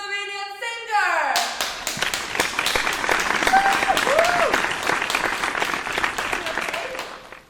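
An audience breaks into applause for a guest singer on a show, a dense, loud clapping that swells in after a brief tonal intro and continues steadily, with a few voices faintly beneath.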